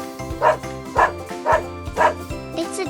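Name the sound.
dog barking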